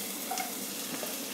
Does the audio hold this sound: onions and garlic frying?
yes